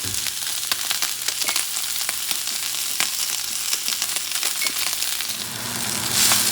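A veal chop sizzles loudly and steadily in a hot pan, with crackling, popping spatters throughout and a brief swell of hiss near the end.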